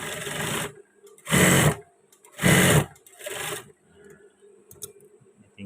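Sewing machine stitching the side pocket of a men's batik shirt, running in four short bursts of roughly a second each with brief pauses between, close and fairly loud, with no talking.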